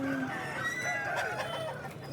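Chickens and roosters at a weekly poultry and livestock market near Othimalai Road in Annur cluck and crow steadily in a dense, overlapping chorus with busy market noise behind.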